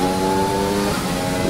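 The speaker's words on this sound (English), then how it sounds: "See the engine's already straining." A race car engine in F1 2020 strains at sustained high revs, its loud, buzzing drone holding steady and close for the whole moment with no talk over it.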